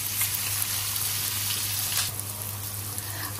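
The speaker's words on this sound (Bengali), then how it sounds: "তেলটাও গরম হয়ে গিয়েছে, আমি এখন এখানে পেঁয়াজ কুচি দিয়ে দিচ্ছি।" Chopped onion sizzles loudly and continuously in hot oil in a wok, a dense steady frying hiss close by with no one talking.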